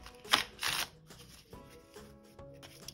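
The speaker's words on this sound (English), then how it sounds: "So let's shuffle our cards." A deck of playing cards from a card game is shuffled close up, two quick riffling bursts followed by softer tapping and squaring of the deck, with no talk.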